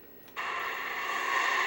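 Japanese limited edition original Xbox console spinning up and loading a game disc, a sudden whirring drive noise that starts after a brief quiet moment and holds steady and fairly faint, with no talking.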